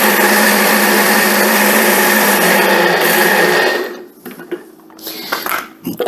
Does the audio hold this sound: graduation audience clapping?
no